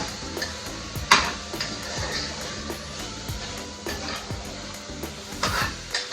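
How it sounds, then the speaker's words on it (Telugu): Mutton curry with ginger-garlic paste is stirred in a hot pan. A spoon scrapes and clinks against the metal over a steady sizzle, with a few sharper knocks along the way and no talking. "ఇప్పుడు మటన్ని మొత్తం మంచిగా కలిపేసుకోవాలి."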